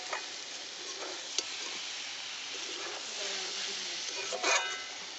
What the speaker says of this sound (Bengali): নেড়ে দেওয়া হবে বারবার